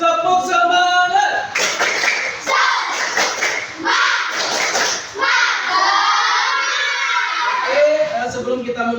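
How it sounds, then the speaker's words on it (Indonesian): Students in a school physical education class do a rhythmic spirit clap, with bursts of patterned clapping mixed with loud group chanting and children's shouting voices, close and lively. "Tepuk semangat."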